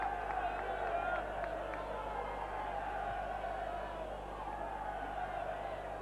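A distant rugby league cup crowd of Saints supporters at a 1997 Keighley versus St Helens match, a broad low roar of jeers and scattered applause under steady broadcast hum, fading slightly over several seconds.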